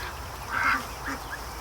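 A Muscovy duck lets out a short, loud stressed quack, followed by two fainter, clipped calls, heard alone against low background noise in a duck-hatching setup.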